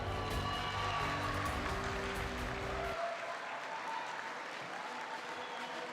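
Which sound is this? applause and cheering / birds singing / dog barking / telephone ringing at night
applause and cheering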